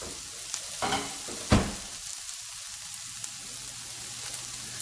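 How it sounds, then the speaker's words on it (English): Food sizzles softly in a hot pan, with a couple of scraping stirs and a clatter near the start, then a steady quiet frying hiss. "Now let this saute up."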